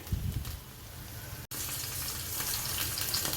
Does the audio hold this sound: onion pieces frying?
yes